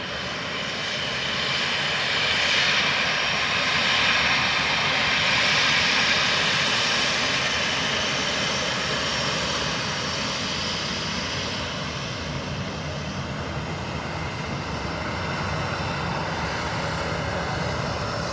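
An airliner comes in to land on runway 28 left at Dublin Airport, its engines giving a loud, sustained roar with broadband rushing noise that swells and then holds steady.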